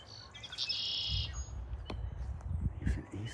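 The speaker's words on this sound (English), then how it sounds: "We got birds." Birds call and chirp at a quiet nature preserve near a lake, with a bright burst of song early on and scattered shorter chirps over soft low background rustle.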